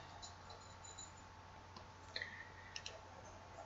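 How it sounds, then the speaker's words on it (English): Typing on a computer keyboard, a few faint, sparse key clicks scattered over a quiet room hum, with a small cluster of taps toward the end. "let me type in a fake info here"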